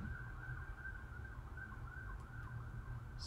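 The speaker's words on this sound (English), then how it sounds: "Looks like there's sirens." City emergency sirens wail faintly in the distance beneath a steady low background hum, with no one talking.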